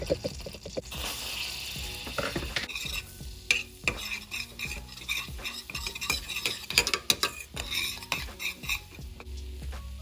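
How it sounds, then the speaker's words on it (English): A whisk beating a cornstarch, vanilla and sugar mixture for apple turnover filling, with quick irregular clinks and scrapes against a bowl, close and fairly loud, no voices. "And then I'm gonna whisk everything together."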